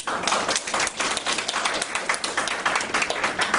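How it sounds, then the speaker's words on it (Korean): An audience claps together at an international school admissions information session, a dense burst of applause that runs steadily throughout. "박수 한번 쳐드리세요."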